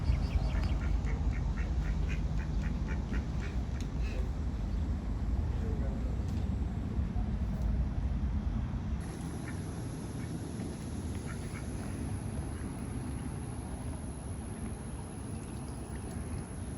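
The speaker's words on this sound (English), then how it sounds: "Out in the front of the Duck Commander building, they have this area with these ducks in it." Ducks quack in a series of short nasal calls near a pond in front of a building, clustered early on, while a person talks over a steady outdoor background.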